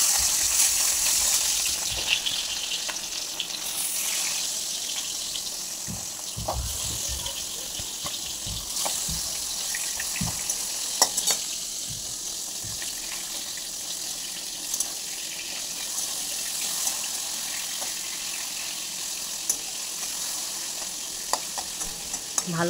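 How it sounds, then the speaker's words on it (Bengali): Marinated rohu fish pieces fry in hot oil in a kadai, giving a steady, dense sizzle with scraping from turning and stirring throughout. "ভালো করে উল্টে পাল্টে লাল লাল করে ভেজে নিতে হবে।"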